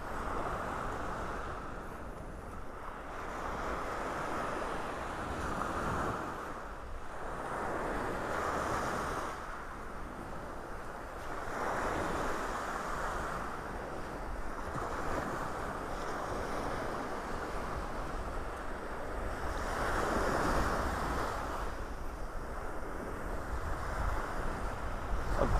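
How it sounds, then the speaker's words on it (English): Ocean waves on a beach in North Naples, Florida in the early morning roll in and break in slow, repeated surges, with steady surf wash and some wind buffeting the microphone and no talking. "The sound of the waves."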